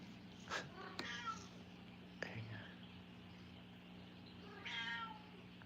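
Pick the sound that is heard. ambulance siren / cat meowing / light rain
cat meowing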